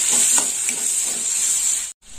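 Chopped onion frying in hot oil with whole garam masala, a steady close sizzling hiss with a few soft stirring knocks, then a brief cut to silence near the end.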